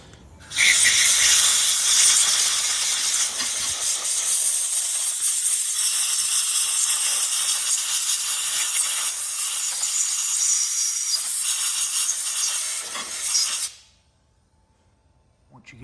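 Compressed air hisses steadily through a Briggs and Stratton carburetor being cleaned for a stuck choke, a loud close continuous blast lasting about thirteen seconds before cutting off abruptly.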